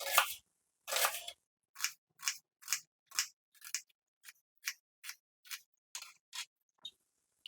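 A knife thinly slices peeled onions with about fifteen crisp, separate cuts. They come in a steady rhythm, close and clear, with silence between strokes and no voices.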